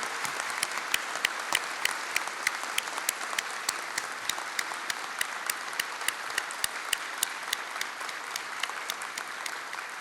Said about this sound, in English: Give him a big applause for making that happen.